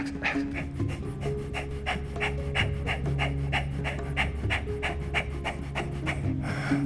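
In a yoga class, rapid forceful Kapalabhati breaths give about twenty sharp nasal exhales in a quick, even rhythm over a steady low background drone.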